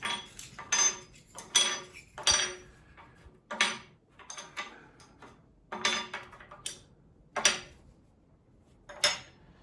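Metal plates handled and set into a timber beam while building a triple joist, giving about a dozen sharp, bright metallic clinks in irregular bursts, close and alone with no talking.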